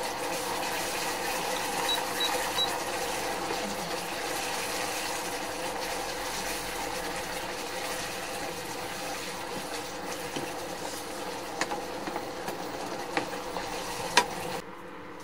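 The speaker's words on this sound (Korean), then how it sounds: "걸쭉해집니다. 계속 저어주세요." Thick jjajang sauce being stirred in a pot, a soft continuous bubbling and scraping with a few sharper clicks of the utensil near the end, quiet and without talk.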